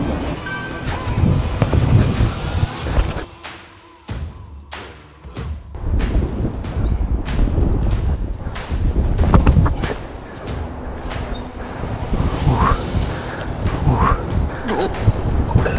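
Strong gusty wind buffets the microphone outdoors during a long-distance football kicking challenge, a loud continuous rumble with thumps, as people talk throughout.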